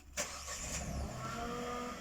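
A car engine cranks briefly and catches, then settles into a steady running hum.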